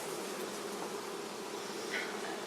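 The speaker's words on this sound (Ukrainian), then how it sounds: "Треба вміти працювати з цією бджолою." Buckfast honeybees humming inside an open hive, a steady close buzzing drone that holds evenly throughout with no voices.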